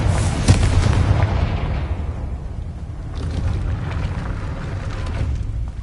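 A Confringo explosion spell goes off in a video game, with a loud booming blast at the start followed by a long rumbling decay and crackling debris.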